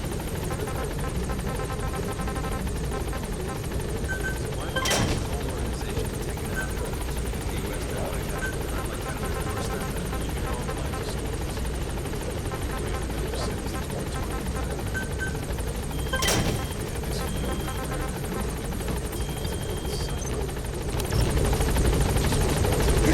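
The Pequod helicopter hovering at a landing zone in Metal Gear Solid V, a steady rotor and engine drone that runs throughout, with sharp clanks near the start and middle and a slight swell at the end.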